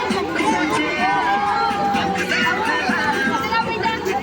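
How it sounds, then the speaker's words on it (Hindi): A busy crowd chatters and babbles without a break around a pakora shop, a dense and fairly loud wash of many overlapping voices close by. "आप देख सकते हैं यहाँ कैसे म्यूजिक के कारण भीड़ बढ़ चुका है हमारे पकौड़े वाली दुकान में"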